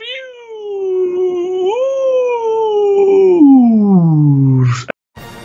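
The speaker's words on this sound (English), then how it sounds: "that is a low wolf howl at the end there for you" A single low, drawn-out wolf howl, loud and close, holding steady before sliding downward in pitch and cutting off abruptly near the end.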